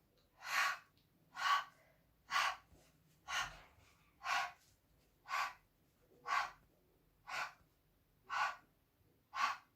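Forceful exhalations during an arm pulling exercise against a wall, ten evenly spaced breaths about one second apart, close and clear with quiet gaps between them.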